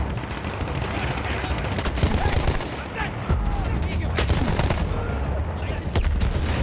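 Dense, continuous gunfire rings out in a Battlefield 1 battle, with rapid overlapping shots and booming blasts layered over a loud, busy wartime soundscape for the whole stretch.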